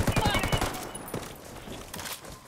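Gunfire in the tactical shooter Ghost Recon Wildlands during a player-versus-player match, a rapid burst of automatic shots up front followed by scattered distant pops, with voices over the action.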